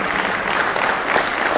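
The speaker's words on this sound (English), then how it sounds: "They need a round of applause." Steady, dense audience applause fills a room at an agri-business investment forum in Jamaica, continuous and fairly loud throughout the short stretch with no talking.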